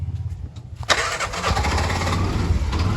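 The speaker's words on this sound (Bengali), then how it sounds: "এই গাড়িটা একটু স্টার্ট দিয়ে আমি আপনাদেরকে সাউন্ডটা শোনা দিই দেখেন সাউন্ডটা আসলে কেমন দুশো দশ সিসি গাড়ি" Used 210cc CNG auto-rickshaw engine cranking and catching, a short starter whir followed by a loud, close engine settling into a rough, chugging idle.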